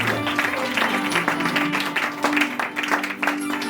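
A church congregation at an Odia Christian worship service claps hands in praise, a steady dense patter of many hands throughout, fairly close, with music or a held tone underneath.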